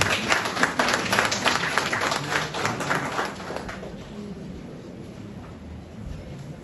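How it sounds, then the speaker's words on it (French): An audience at an entrepreneur awards ceremony claps in a burst of applause, loud at first and then thinning out into scattered claps and room noise. "Félicitations et applaudissements."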